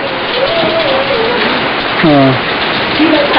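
Heavy rain hisses steadily throughout, with excited voices and a shout rising over the downpour.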